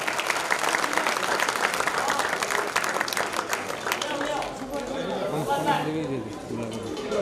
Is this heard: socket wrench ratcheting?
no